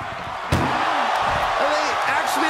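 An ambulance door slams shut with a single sharp bang during a wrestling ambulance match, followed by loud arena noise and crowd reaction with a commentator talking.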